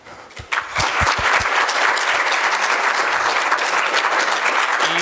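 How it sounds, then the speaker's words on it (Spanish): Audience applause fills a university lecture hall at a science colloquium, a dense, steady clapping that builds quickly after a few isolated claps and continues loudly for several seconds. "Lo recibimos con un fuerte aplauso."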